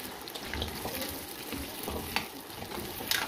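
Sliced kamote (sweet potato) frying in hot oil for kamote cue: a steady close sizzle and crackle with occasional stirring scrapes, no voices over it.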